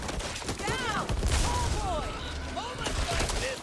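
Gunfire in the zombie video game Back 4 Blood, a dense fusillade of shots under continuous chatter and voices, steady and moderately loud across the stretch.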